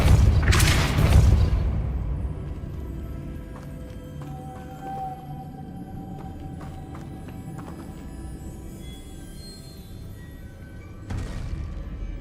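Depulso, a force-push spell cast in the video game Hogwarts Legacy, opens with a loud, sharp burst that fades over about two seconds, followed by a quieter magical hum with tonal accents and a second softer burst near the end.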